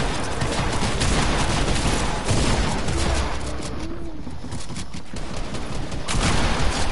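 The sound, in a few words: shotgun gunfire in a PS4 video game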